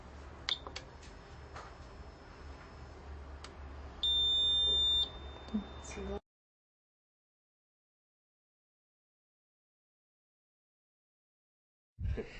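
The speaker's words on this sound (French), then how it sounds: "votre iTest 600A vous indiquera également par un signal sonore si le résultat de votre mesure est conforme." An iTest 600A electrical installation tester gives a steady electronic beep lasting about a second to signal a compliant measurement, heard over low background noise and followed by silence.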